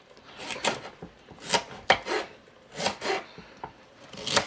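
Vegetables are chopped on a wooden board for a winter soup, a series of close, rhythmic knife strokes and scraping rubs in short bursts with brief pauses, no talking.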